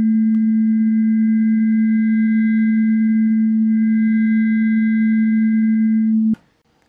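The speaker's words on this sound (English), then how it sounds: "it stops being a low frequency oscillator and starts being just a normal oscillator" A steady pure tone from an FM plugin's oscillator set to a fixed frequency, loud and unwavering with faint upper harmonics for about six seconds before stopping abruptly.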